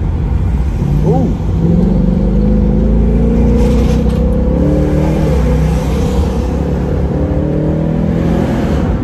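A 2019 Ford Mustang GT Premium revs sharply on a paddle-shifted downshift, its loud engine note climbing and then settling into a steady rumble close by throughout.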